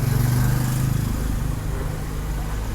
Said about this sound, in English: And here's the traffic chaos.